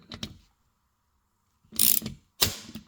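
A ratchet loosens the clutch pressure plate bolts on a Honda N600, giving a quick pair of clicks, then a pause, then two louder bursts of rapid ratcheting close up.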